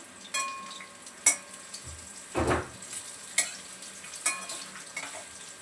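Oil sizzles steadily in a pan as sesame-coated food fries crisp, broken by sharp crackles and pops, with a soft clatter of a utensil partway through.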